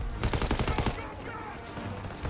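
Call of Duty WW2 gunfire comes as a rapid burst of loud automatic shots in the first second, followed by a noisy battlefield rumble, with a voice speaking over it.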